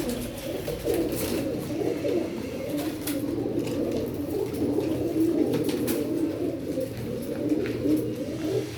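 Teddy pigeons coo in a loft, a continuous overlapping murmur of soft, throaty rolling calls from several birds nearby, with a few faint clicks and rustles mixed in.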